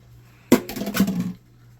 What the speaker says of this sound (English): I'm going to go ahead and add in my rinsed tomatoes and beans